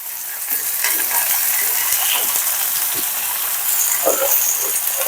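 Greens with potatoes and beans fry in a small wok with a loud, dense, continuous sizzle, and a utensil stirs and scrapes now and then, close and without talking.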